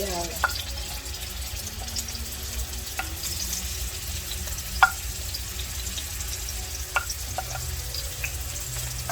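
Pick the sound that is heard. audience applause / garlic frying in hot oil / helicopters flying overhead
garlic frying in hot oil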